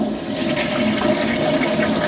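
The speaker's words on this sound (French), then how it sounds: "vous pouvez utiliser ça manuellement pour tirer la charge d'eau" A Japanese electronic toilet flushes with a loud, steady rush of water that runs continuously and close by, with no one talking.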